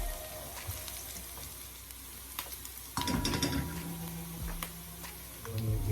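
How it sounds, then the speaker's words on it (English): Chicken Alfredo ingredients sautéing in a pot while being stirred, a low sizzle broken by a louder clatter of the utensil against the pot midway and more scraping toward the end. "while they are sauteing, just kind of stir them around in the pot"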